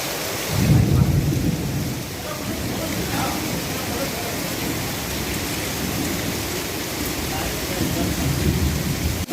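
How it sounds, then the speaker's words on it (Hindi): Heavy rain pours down during a thunderstorm in Jharkhand, a dense continuous hiss with a deep rumble of thunder early on and voices faintly mixed underneath. "बारिश हो रही है"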